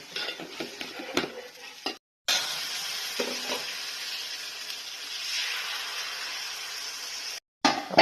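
Chili powder and turmeric are stirred into a tomato masala in a pan, with scraping spoon strokes and clicks over a steady sizzle, broken by two short silent gaps.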